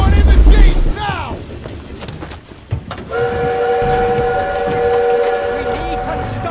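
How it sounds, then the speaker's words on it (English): A train in the video game Call of Duty Warzone roars close by amid gunfire and engine noise, then sounds a loud, sustained horn that holds over the din. "We need to stop that train!"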